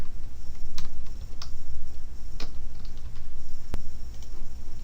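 Rapid keystrokes patter on a computer keyboard during a five-minute timed typing test, a close, even stream of clicks with a few sharper taps standing out.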